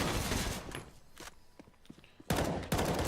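Pistol gunfire in Counter-Strike on the map Train, in a competitive match: rapid bursts of sharp shots, some close and loud and others more distant, with footsteps and thuds between the volleys.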